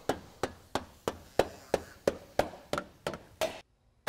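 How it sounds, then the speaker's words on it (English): A rubber mallet taps aluminum door trim into place, striking about eleven evenly spaced, sharp, close knocks roughly every third of a second, each with a short, dull ring, then falling silent. "Use a rubber mallet when you're installing this."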